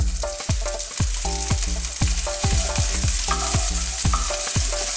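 Onion frying in a pan with browned ginger, garlic and lemongrass, a loud continuous sizzle with regular rhythmic spatula scrapes against the pan, close and steady throughout.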